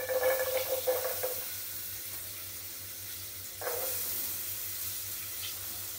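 Onions frying in hot oil, a steady, moderately quiet sizzle with a few brief clattering stirs near the start and again midway.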